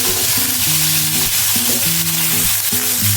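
Prawns with turmeric frying in a pan, a steady loud sizzle running throughout, overlaid with repeated scraping strokes of stirring and a low humming tone in the background.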